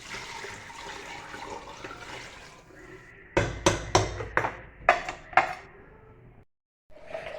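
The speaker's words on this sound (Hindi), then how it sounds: "ये मैं इसके अंदर पानी ऐड कर रही हूँ" Water gushes and splashes into a metal pot holding ground onion for chicken curry for a few seconds, followed by several sharp clanks and knocks of cookware, then a brief pause.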